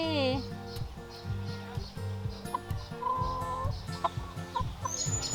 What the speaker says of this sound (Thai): อันนี้คือน้องกุ๊กไก่